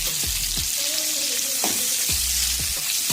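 Ingredients for pineapple chicken sautéing in a hot pan, a loud dense sizzle close up, with a few low scraping sweeps of a spatula and a brief faint tone in the middle.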